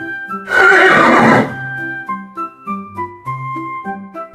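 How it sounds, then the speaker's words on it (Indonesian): A horse gives one loud, close whinny lasting about a second, followed by soft background music. "Kuda."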